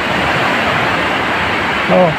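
Sea at Silago, Southern Leyte: a steady, loud wash of surf and wind rushes continuously, close to the microphone, with a brief faint sound near the end.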